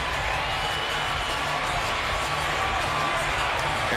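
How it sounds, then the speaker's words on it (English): A packed boxing arena crowd at Terence Crawford vs John Molina roars loud and continuous with cheering and whoops, steady throughout with faint talk underneath. "Crowd is still going crazy."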